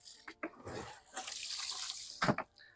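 A pond pump box full of holes in its sides gets dipped into water, giving quiet splashing and sloshing bursts with a gurgle near the end.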